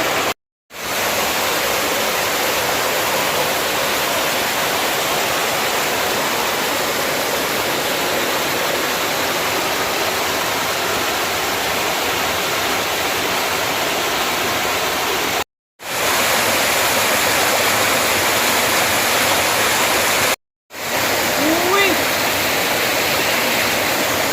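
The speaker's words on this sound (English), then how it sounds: "About 6-foot drop off that waterfall over there" A steady, roaring rush of falling water from a waterfall with about a six-foot drop in West Virginia, broad and constant, with a couple of brief dropouts.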